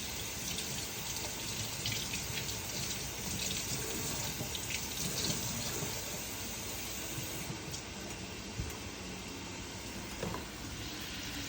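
A kitchen tap runs in a steady, close, continuous gush while water is added to a beef stew with mushrooms, carrots, zucchini, red peppers and onions, with no talking.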